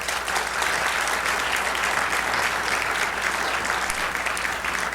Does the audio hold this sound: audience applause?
yes